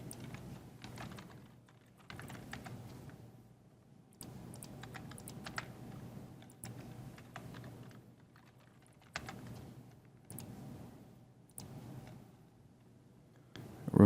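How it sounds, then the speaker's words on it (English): Bursts of typing on a computer keyboard, quick clusters of light clicks separated by brief pauses, close and fairly quiet over a low steady background hum. "You type in your question and choose which format you'd like the question to be in."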